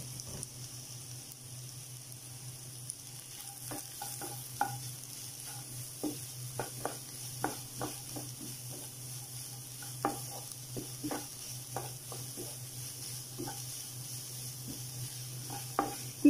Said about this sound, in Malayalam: ഇതൊന്നുകൂടെ നന്നായിട്ടൊന്ന് വഴറ്റിയെടുക്കാം